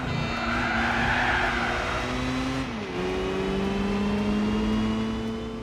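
A car in Gran Turismo 4 drifts with a sustained, loud tire squeal over a steady engine drone. The pitch dips briefly midway as the slide shifts, and the squeal carries on without any talking.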